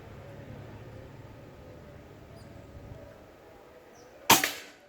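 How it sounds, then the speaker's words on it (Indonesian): A single sharp PCP air rifle shot from a Bocap Pajero Gen 5 with 14.2-grain pellets, loud and close, cracks out after several seconds of quiet outdoor ambience. "Tembakan terakhir."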